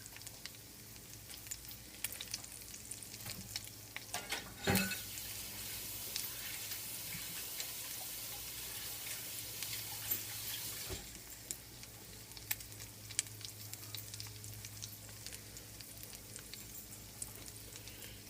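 Salmon patties fry in a pan with a steady, soft sizzle and crackle, broken by occasional sharper pops, quiet and unbroken with no talking.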